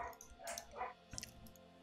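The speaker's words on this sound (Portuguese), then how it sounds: "Ó os cachorros latindo, ó os cachorros latindo." Dogs bark in a few short, faint yelps in the distance, scattered over low background noise.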